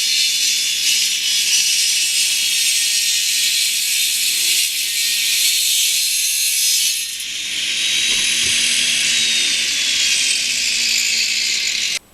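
A power driver screws wooden parts together for nesting box blockers, giving a loud, continuous close-up whir that dips briefly midway, resumes and then cuts off at the end.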